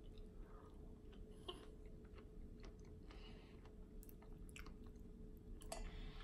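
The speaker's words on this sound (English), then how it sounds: "I find it easier to chew and swallow that way" Close, quiet chewing of small pieces of air-dried raw ribeye, soft wet bites and squishy clicks scattered irregularly over a low steady hum, with no talk.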